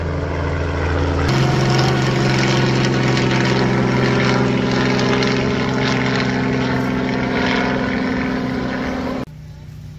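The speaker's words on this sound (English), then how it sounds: "Look, that's a helicopter." A helicopter on display at a Nashville fall festival runs its engine with a loud, steady drone and a low constant hum that kicks in abruptly after a second and cuts down near the end, close by.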